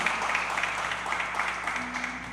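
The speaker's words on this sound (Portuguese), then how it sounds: "Aplauda o nosso Rei." A church congregation applauds during a Tuesday service, a steady wash of many hands clapping at moderate volume over a low organ-like hum.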